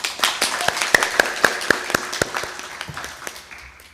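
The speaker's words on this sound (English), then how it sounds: "Can we have a round of applause?" Audience clapping at a community mindfulness gathering: a few distinct, rhythmic handclaps at first that thin out and fade within a few seconds, close and fairly loud.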